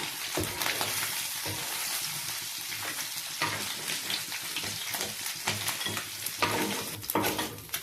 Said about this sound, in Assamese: বাকী কেইটা মাছ পেলাই দিম এইখিনি তেলতে